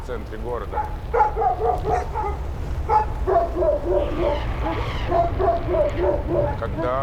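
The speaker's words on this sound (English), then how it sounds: "When we come near, the dogs warn us by barking." A pack of stray dogs at the edge of Moscow barks repeatedly in rhythmic volleys, loud and fairly close, with overlapping yips and whimpers.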